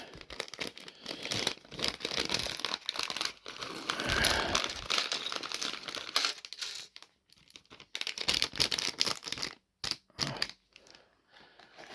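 Plastic bags crinkle and crumple in close bursts while LEGO Star Wars pieces are packed away into a box, busy rustling with brief pauses between handlings.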